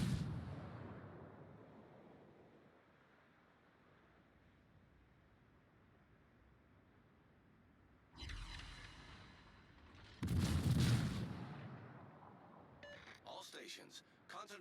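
Battleship guns in a naval video game: deep booming salvos fire after a quiet stretch, with a loud blast and rumbling decay near the end and game voice lines over it.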